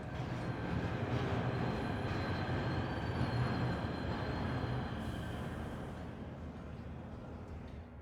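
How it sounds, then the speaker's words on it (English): A steady, loud rumbling train ride in the video game Rogue Trader, with continuous rolling rail noise and faint high squeals that ease slightly toward the end. "So now we're gonna get on the train."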